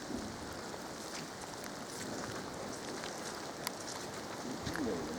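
Steady rain falls outdoors at night beside a pond, a dense even hiss of drops with a few sharper taps, fairly close and continuous with no voices.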